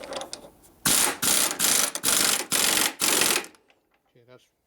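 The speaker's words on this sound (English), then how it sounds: "It's an 1/8" socket. Use a deep well, works the best." A ratchet with a deep well socket tightens a bolt on a 1965 Harley-Davidson Panhead 74ci FLH motor, giving six quick rasping clicking strokes in a row, close and loud, then a short quiet tail.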